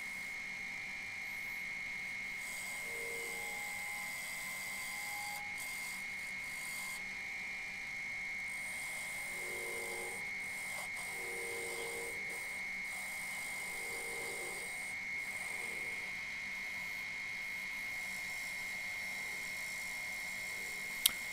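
A wood lathe spins with a steady high whine while a tool cuts a tenon on a wooden piece, with intermittent scraping tones from the cutting rising and falling over the constant drone.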